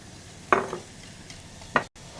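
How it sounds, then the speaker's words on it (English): Onions being whisked in a bowl: two short scraping, clattering strokes about a second apart, close and fairly quiet against a hushed kitchen background, no speech. "I'll whisk the onions."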